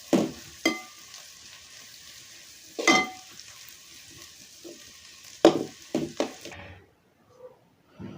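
Curry leaves and coriander leaves are stirred in a hot frying pan with a soft sizzle, broken by several sharp scrapes of the spoon against the pan before the noise stops and goes quiet.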